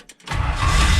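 A 1957 Chevrolet Bel Air engine cranks briefly and starts right up, catching into a loud, steady idle rumble close by.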